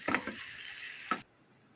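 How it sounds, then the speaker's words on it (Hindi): Chicken being stir-fried on a high flame for dahi chicken: a short, close burst of hissing sizzle with a few utensil knocks, cutting off abruptly after about a second. "तेज़ आंच में हम भुनाई करेंगे चिकन की"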